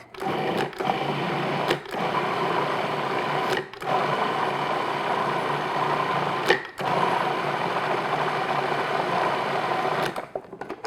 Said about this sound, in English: now just put this on and just puree it until smooth